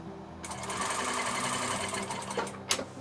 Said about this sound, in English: leave your needle in the machine and pivot and turn to the next corner. Going across. Just sew an X.